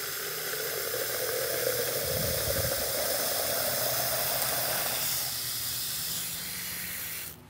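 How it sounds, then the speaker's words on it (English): Water pouring steadily into a plastic sprayer container as it is filled to the line for mixing grub-control nematodes, a continuous close hiss that changes pitch partway through as the container fills, then cuts off abruptly. "Fill your container to the fill line."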